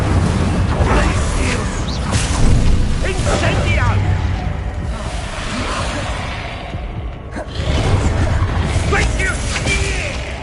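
Incendio fire spell cast in Hogwarts Legacy, loud whooshing bursts of flame and crackling effects amid continuous game combat noise, with a voice speaking over it.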